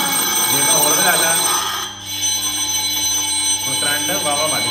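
A homemade electric bell rings with a steady, continuous metallic buzz throughout a school science experiment, close and fairly loud, with voices talking over it and a brief dip near the middle.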